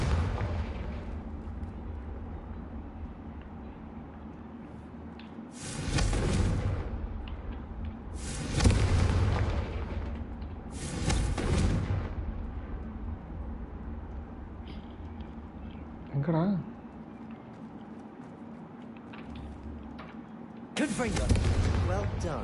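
Confringo fire spell blasts in Hogwarts Legacy, several loud broadband bursts arriving in a cluster and then one more near the end, set over a steady background hum with some talk.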